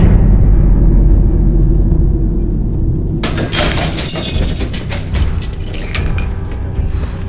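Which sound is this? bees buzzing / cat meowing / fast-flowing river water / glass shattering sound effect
glass shattering sound effect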